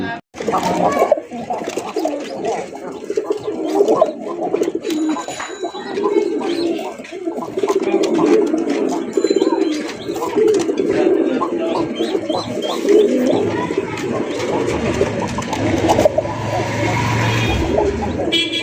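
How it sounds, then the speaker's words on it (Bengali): Domestic Bangladeshi pigeons coo steadily in a dense, overlapping chorus close by, with faint road traffic behind them, continuing without a break. "আমাদের দেশি কবুতর কিন্তু খাঁটি কবুতর"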